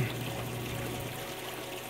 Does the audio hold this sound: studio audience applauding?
no